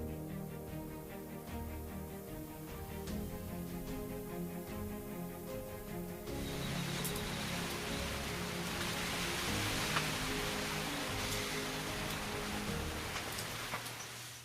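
Steady rain falling, a continuous hiss of drops that grows denser and brighter partway through, with no voices.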